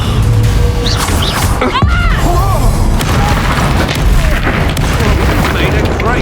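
Bombarda spell blasts in the Hogwarts Legacy video game, a loud booming explosion with crashing debris amid dense battle noise, heard under character voices shouting in combat.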